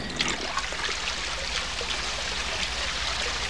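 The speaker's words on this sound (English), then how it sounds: "then rinsed in well water" Plant fibers, softened and bleached by boiling in soda ash, are rinsed in well water in a Japanese village, giving a continuous close trickling and splashing stream of water with no talking.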